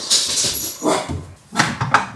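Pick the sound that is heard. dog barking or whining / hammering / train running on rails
dog barking or whining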